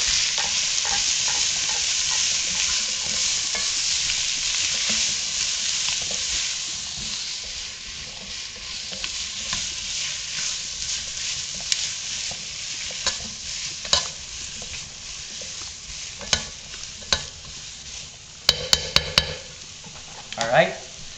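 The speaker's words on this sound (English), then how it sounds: "and we're going to stir." Lentils frying and sizzling in a pan while being stirred, a steady hiss under scraping strokes, with sharp clinks of a utensil against the pan growing more frequent toward the end.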